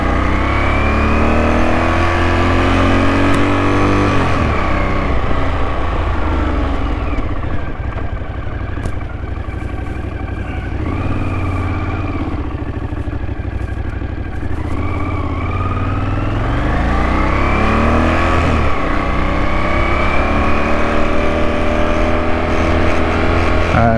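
A 1981 Honda CX500 motorcycle engine idles and is revved repeatedly up and down, loud and close, in several swelling bursts.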